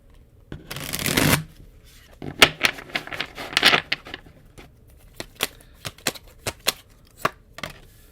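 Tarot cards are shuffled up close: a dense riffle burst, then a run of crisp, sharp card taps and snaps at an uneven pace.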